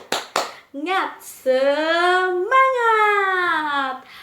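Children in a classroom perform a rhythmic clapping chant: a couple of quick sharp claps, then long, drawn-out shouted voices rising and falling together, loud and close.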